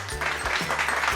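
Hands clap as the answer in a children's sound-guessing lesson, a steady patter of clapping with a low hum beneath, running evenly without pauses or talk.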